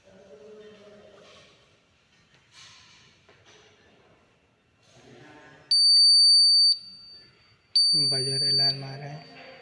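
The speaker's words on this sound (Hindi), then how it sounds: "बजर अलार्म आ रहा है" A Honeywell fire alarm panel buzzer sounds in two loud, steady electronic tones, each lasting about a second, with someone talking quietly before and under the second one.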